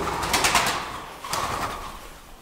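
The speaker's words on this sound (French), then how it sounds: "Oh putain, le pigeon." A pigeon coos nearby in two soft throaty bursts over a steady hiss of background noise inside an abandoned school building.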